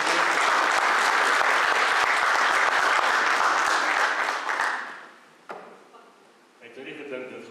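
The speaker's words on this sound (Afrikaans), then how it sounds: "Môre kan ons net vir pastoor Dawie en sy vrou hande klap gee" Church congregation applauding loudly and steadily for several seconds, the dense clapping fading out before a few scattered claps and room noise follow.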